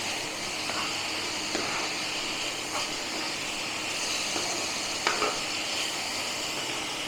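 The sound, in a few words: stirring coconut and date jaggery mixture in pan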